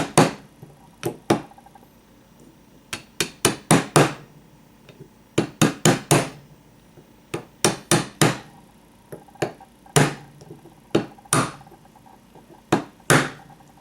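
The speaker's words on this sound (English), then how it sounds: "And then we're just going to let's use this to tap it down." A hammer taps a part into place on a Saginaw 800 power steering gear box, landing sharp metallic knocks in irregular bursts of two to five quick strikes with short pauses between, loud and close.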